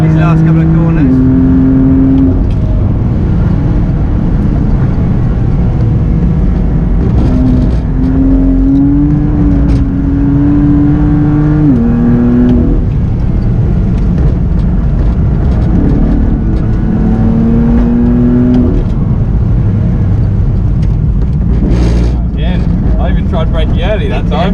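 A race car circles a track, its engine revving up through the gears and easing off into corners in a loud, steady drone, with a voice talking over it.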